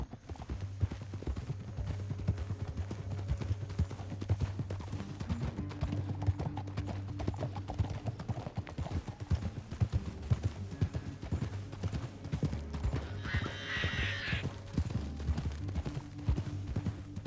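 Horses trotting in Red Dead Redemption 2 produce a continuous rhythmic clip-clop of hooves on the trail, close and steady throughout, with a low droning score beneath and a brief higher burst near the end.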